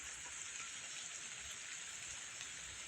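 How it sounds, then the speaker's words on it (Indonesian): Light rain falling at a garden hut, a steady, even hiss of drops with no breaks, fairly close and uniform throughout, with no voices. "karena cuaca sedikit hujan"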